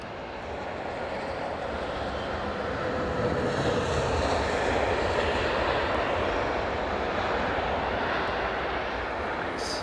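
Steady, loud jet engine roar inside an airliner flying from the Maldives to Perth, a constant broadband drone that holds throughout without speech.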